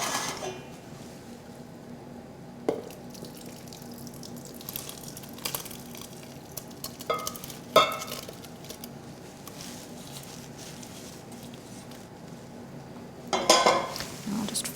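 Date mixture being folded by hand into sticky date pudding batter in a bowl, heard as soft, sparse scrapes with a few light clinks of the utensil against the bowl, quiet and close with no talking.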